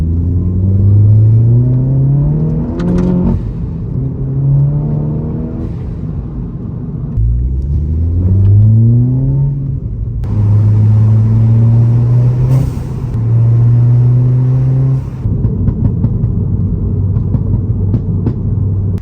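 A turbocharged, 330 hp VW Polo GTI engine revs hard through several gear pulls, rising and dropping in pitch, with sharp blow-off valve bursts between shifts, loud and close.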